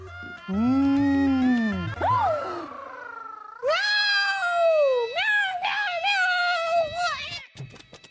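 Long, wailing cat meows in a palace, rising and falling, loud and close, one after another with brief gaps. A person likely imitates the cat's cries.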